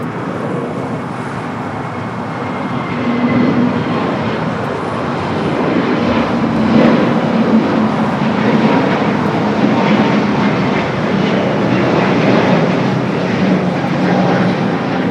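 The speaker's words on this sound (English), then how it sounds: "Next takeoff, Volaris A320 Neo" Volaris Airbus A320neo taking off at Los Angeles airport, a steady broad engine roar that swells slightly midway and holds loud and continuous, heard alone without talk.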